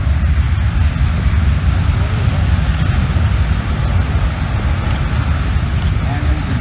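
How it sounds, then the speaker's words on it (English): A jet airliner landing with reverse thrust at an airshow roars loudly and continuously, a broad steady rush of noise that holds without pause for the whole stretch. "this is about as much noise as this airplane is ever going to make"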